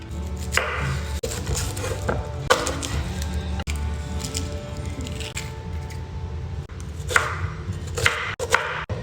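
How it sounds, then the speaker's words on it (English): An onion is chopped on a cutting board, a close series of crisp knife taps in irregular bursts with short pauses, loud against a low background hum. "I'm gonna chop up some onion"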